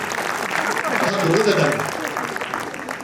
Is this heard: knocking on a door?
no